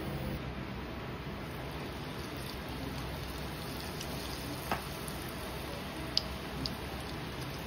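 Onion bhaji fritters frying in hot oil, a steady close crackling sizzle that keeps going throughout, with a few faint ticks and pops on top.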